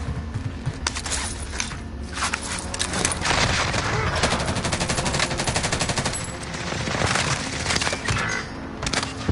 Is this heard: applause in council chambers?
no